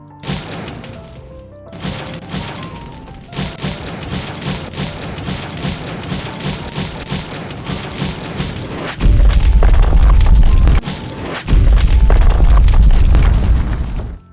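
A rapid series of punchy video-game attack effects, booming hits and crashes layered over dense music, growing louder and heavier toward the end.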